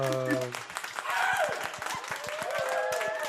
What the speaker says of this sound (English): If you're wondering who's clapping, that's the people I have at the house.